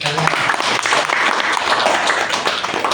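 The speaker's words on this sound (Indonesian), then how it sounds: "Tepuk tangan dulu." Audience applause from a seated crowd, loud continuous clapping filling the room evenly for several seconds with faint voices underneath.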